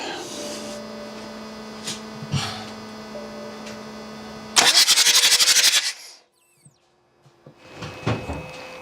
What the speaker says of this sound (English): I'm going to turn the engine over with the glow plugs removed